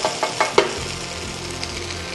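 Tofu strips frying in a pan, cooked as a vegetarian take on braised pork, with a loud steady sizzle and a few stirring scrapes near the start.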